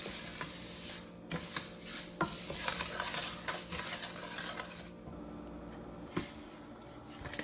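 Pastina toasting with garlic in a pan, with a quiet steady sizzle under repeated scraping and clinking from a utensil stirring against the pan, close by with no talking.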